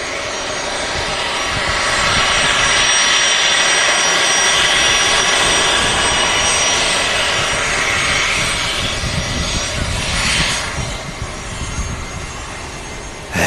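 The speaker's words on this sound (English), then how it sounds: "Legacy 500 aircraft." A Legacy 500 business jet at a Singapore airport gives off a loud, steady engine roar that holds for the whole stretch, with a slight dip and shift near the end.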